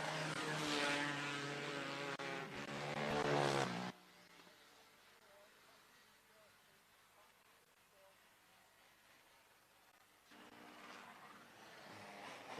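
Race cars in a heat race at Marion County Speedway roar past close and loud with a strong harmonic engine drone, fade to a distant murmur, then swell back as the pack returns.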